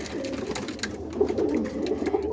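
Boston roller pigeons in a loft coo in soft, overlapping low burbles, a steady murmuring flock nearby with faint rustling and no talk.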